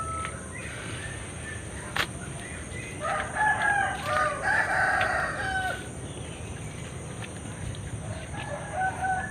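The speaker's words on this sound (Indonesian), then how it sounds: "baru ayam aja yang berkokok" A rooster crows on a rural property beside a weed-choked fish pond, one drawn-out crow rising in the middle of a quiet outdoor scene, moderately distant, with a few other faint bird calls and no talking.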